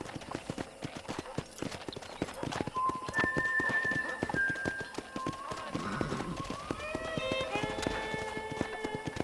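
Horse hooves clip-clop in a steady rhythm, with a whinny partway through, over background music, in the video game Red Dead Redemption.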